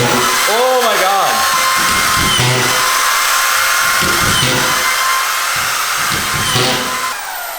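A power drill driving screws into wood while finishing a shop office, whining in short bursts that rise and fall under steady background noise, with people talking over it.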